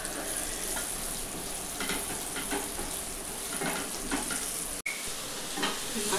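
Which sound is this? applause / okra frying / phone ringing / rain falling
okra frying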